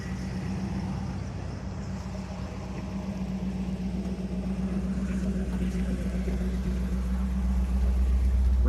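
A 1980 Pontiac Firebird Formula with a 301 V8 and automatic transmission, heard from inside the car on a ride as a steady low engine drone that builds gradually in volume, with no talking.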